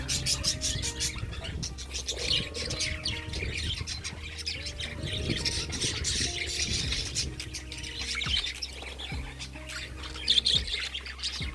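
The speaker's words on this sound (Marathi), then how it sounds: "हा बघा पोपट" Caged parrots at a small animal enclosure in Palghar squawk repeatedly. The harsh calls come close and fairly loud, over a steady background hum.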